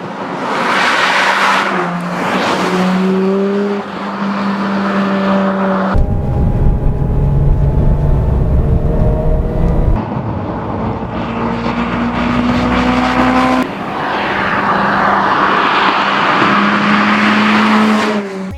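A Mazda sports car roars through a race in the Need for Speed game, its loud engine revving up and shifting gears again and again, with tire noise and a steady drone running the whole way through.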